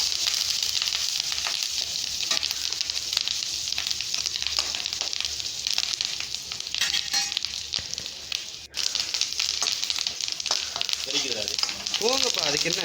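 Garlic and curry leaves sauté in a hot pan with a steady, close, continuous sizzle and crackle, a few scraping stirs breaking through near the end.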